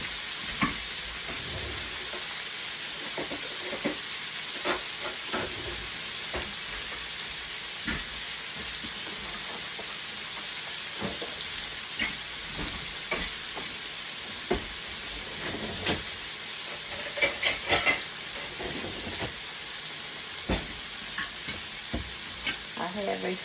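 Food sizzles and crackles steadily in a pan over a gas flame, a continuous hiss with scattered pops and occasional scraping knocks for over twenty seconds.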